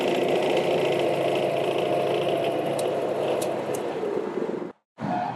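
Atex AR950FA brush mower engine running at a steady, loud drone with a busy rattling texture, then cutting out abruptly near the end before briefly picking up again.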